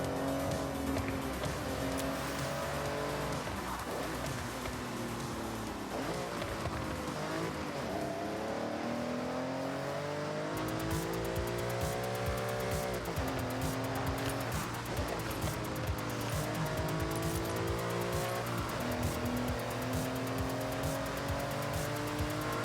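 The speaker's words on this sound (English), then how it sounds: "This car sounds exactly like mine did." A car engine in Forza Horizon 6 revs hard through rising and falling pitch sweeps, with gear changes and tire squeal over a steady, loud drone, close and continuous with no voices.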